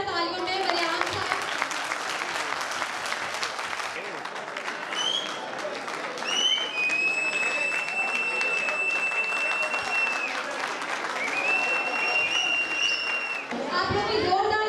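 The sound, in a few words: applause for Bariyam Sahab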